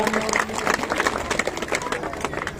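Crowd applause welcoming a donor at an outdoor Nishad Party gathering in Uttar Pradesh, a dense continuous patter of many hands, fairly loud and close, lasting the whole short stretch with some voices mixed in.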